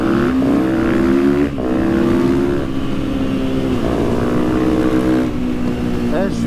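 Supermoto motorcycle engine accelerating during a ride on a road with fallen leaves, a loud close rev climbing and shifting through gears, with brief dips between pulls and a rider's voice over the engine.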